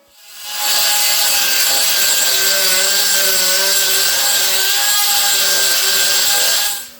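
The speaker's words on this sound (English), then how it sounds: "I'm going to grind and dress and finish that off there now before it goes on to do anything else" Welded sheet metal is ground and dressed in one continuous, loud, steady abrasive whine that runs unbroken for several seconds before it cuts off, with no talking.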